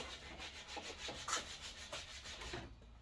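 Wooden board blanks being sanded by hand, rhythmic rubbing strokes in quick succession, close and soft.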